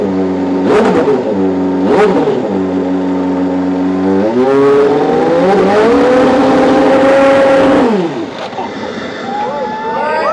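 A Porsche 962 race car engine revs hard and loud, its rising, sustained wail swelling and holding before dropping off abruptly, with a few sharp blips early on.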